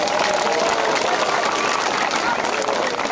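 A crowd at a community peace gathering in Goma erupts in sustained cheering and ululation with clapping, a dense, steady wall of voices and hands that holds at full strength throughout.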